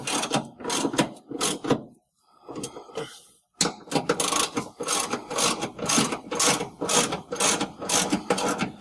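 A clamp is cranked tight on the front stop, squeezing sheet-metal panels together. Close, loud ratcheting rasps come in rhythmic repeated strokes, with a short pause partway through, and no voices.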